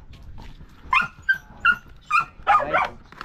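A dog barks repeatedly nearby in a quick irregular series of five or six sharp yaps and barks, some strained and whiny, with no one speaking.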